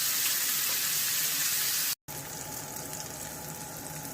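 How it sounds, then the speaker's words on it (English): Garlic fries in bacon fat with a loud, dense, steady sizzle close up, cut by a brief silent gap partway through before the crackling hiss resumes. "Roasting off the garlic."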